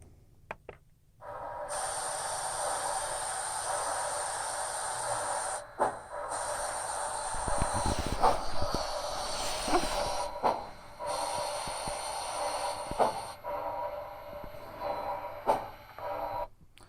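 A model train locomotive fitted with a Soundtraxx decoder runs on powered track at speed step 1, giving off steady hissing steam-like chuffs and mechanical noise with brief pauses and bursts, close and fairly loud.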